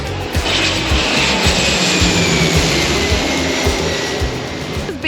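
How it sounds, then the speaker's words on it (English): A low-flying airplane roars over a crowded beach in St Maarten, a loud, sustained engine rumble with a whining hiss that stays strong throughout, no speech on top. "We just got here and look, there's a plane already."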